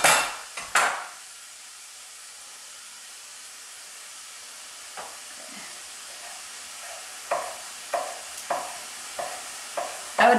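Brussels sprouts sautéing with garlic in a pan: a quiet, faint sizzle under a series of sharp stirring scrapes and utensil knocks on the pan, clustered at the start and again toward the end.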